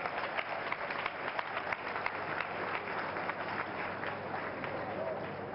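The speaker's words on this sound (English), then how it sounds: "Shall we clap for Jesus Christ?" A church congregation at a Sunday service claps together, a dense, sustained wash of applause from a large crowd with some voices mixed in.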